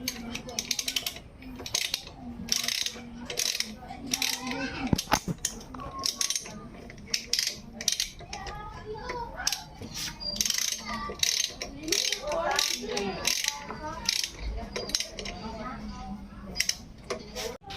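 Caliper bolts and disc bolts are fitted on a Honda Click 125/150 scooter, with repeated metallic clicks and ratcheting taps in an uneven rhythm, fairly close and moderately loud.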